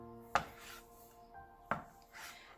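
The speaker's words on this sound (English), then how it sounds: "so now I'm going to cut my tofu into pieces" Knife cutting tofu into pieces on a board for a vegan chow mein, two sharp separate chops about a second apart with quiet rustle between them.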